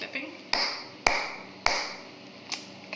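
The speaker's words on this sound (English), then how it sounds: "I can do the clapping" Four sharp hand claps, evenly spaced about half a second apart, each ringing briefly in a room while testing a hearing aid's echo reduction; the last clap is softer.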